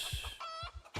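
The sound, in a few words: chicken clucking in the video game Project Zomboid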